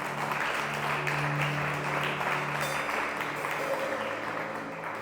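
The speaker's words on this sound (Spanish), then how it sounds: "¿Cuánto le dan un aplauso al Señor?" A church congregation bursts into sustained applause for several seconds, a dense steady clapping that fills the room, with a voice calling out over it.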